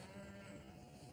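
A sheep bleats in a short, quiet burst, a wavering nasal cry that is heard alone with no talking over it.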